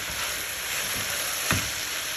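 Peppers and onions fry in a pan with a constant, fairly loud hiss, and one brief stir or scrape midway.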